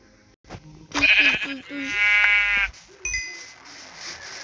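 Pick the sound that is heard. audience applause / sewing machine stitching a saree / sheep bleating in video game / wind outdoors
sheep bleating in video game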